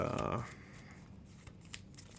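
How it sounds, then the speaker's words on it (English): A deck of Earthborne Rangers game cards being shuffled gently. A brief, close riffle of papery flutter is followed by soft card clicks and rustles fading to quiet handling. "that's pretty good shuffling"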